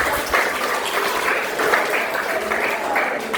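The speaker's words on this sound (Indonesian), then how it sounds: "Tepuk tangan dulu untuk Rizky." Students in a classroom applaud a classmate, a dense continuous patter of many hands at even loudness throughout, with a voice talking faintly over part of it.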